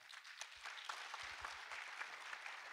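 Applause closing a session at a peace forum on railway and tourism cooperation: faint, distant clapping from a seated audience, steady and quiet across the whole stretch, with some low thumps underneath.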